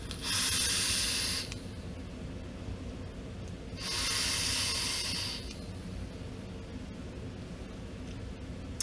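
Two long exhales of vapour from an advanced build on a rebuildable dripping atomizer fitted to a mechanical mod, each a loud, broad airy hiss lasting about one to one and a half seconds, separated by a quieter pause.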